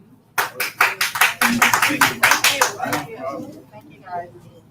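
A small outdoor gathering at the soft launch of a trauma recovery center gives a short round of applause. Distinct, fairly close hand claps last about two and a half seconds, then fade as a voice begins talking.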